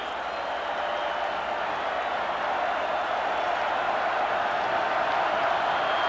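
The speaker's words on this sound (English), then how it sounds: "And the crowd cheers Tennessee's 24-21 advantage." A football stadium crowd at a 1982 Tennessee–Alabama game gives a broad, steady roar of cheering, distant and continuous with no distinct voices standing out.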